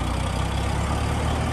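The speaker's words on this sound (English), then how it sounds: "Starts right up there, guys. Nice little gas tractor." A 1962 Allis-Chalmers D17 gas farm tractor idles with a steady, even low rumble and a continuous mechanical drone throughout, close by and with no talking.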